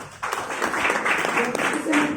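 An audience at an AWPL business gathering claps for the guru in a short burst, with a voice speaking over the applause.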